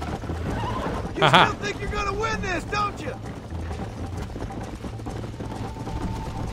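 A horse in the Red Dead Redemption 2 video game gives a loud whinny with wavering pitch, against steady hoof clip-clops and a low game soundscape, with people talking.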